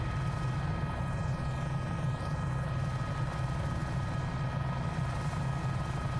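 Cowan Sim H125 helicopter in a flight simulator game, a steady loud rotor and turbine drone holding constant throughout with no talk.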